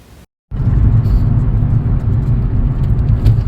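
A car travels along a rough country road, giving a loud, steady low rumble of tyres and engine from close inside the vehicle, with no talk.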